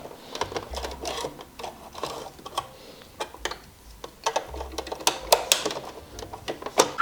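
A sewing machine stitching a pinned shoulder seam on a shirred top, running in short rapid bursts of needle clatter with sharp ticks and pauses between runs, close and fairly loud, with no voices.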